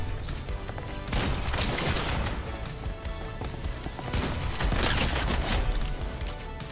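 Sustained minigun fire in a ranked video game match, loud continuous bursts with two heavier surges around the second and fifth seconds.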